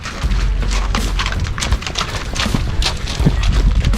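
Rapid clip-clop of horse hooves close by, a steady pounding rhythm over rumbling low noise.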